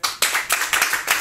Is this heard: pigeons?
no